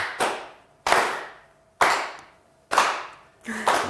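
In a television word-game studio, a slow, sparse round of applause sounds as four or five separate loud bursts, each ringing out and fading before the next, like a deliberately sad, half-hearted clap.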